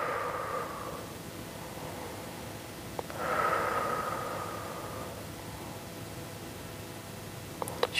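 During a stretching exercise, a person breathes slowly in and out: two long, soft, airy breaths, separated by a pause, heard close but faint over a low background hiss.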